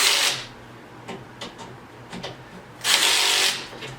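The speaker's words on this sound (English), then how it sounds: "tighten each one of these legs" A cordless driver tightens the legs of a three-piece patio set during assembly, with two short loud whirring bursts at the start and end and light tapping and handling noises between them.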